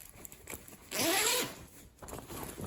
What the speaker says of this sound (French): c'est une fermeture éclair, donc c'est super pratique